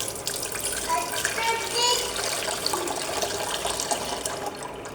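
Water pours off a bowl of soaked ragi in a steady splashing stream, close and continuous, with faint voices in the background.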